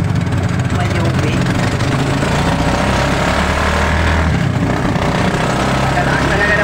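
A Barako motorcycle tricycle engine drones continuously and loudly at close range with a rough, rumbling low tone, heard from aboard as the tricycle rides along.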